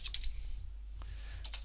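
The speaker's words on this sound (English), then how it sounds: "So what you need to do here is type, let's just get the typing up there" A computer keyboard clatters as a command is typed, with quick bursts of key clicks, a pause, then a few more taps, close and clear.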